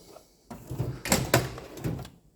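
A metal tool box drawer slides open with a rolling rumble and a few sharp clacks and rattles, close by and without talk.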